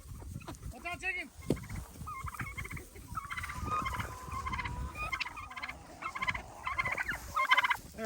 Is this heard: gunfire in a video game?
no